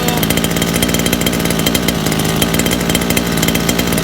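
A motorcycle engine idling after carburetor work, running loud and close with a steady, buzzy, even rhythm throughout.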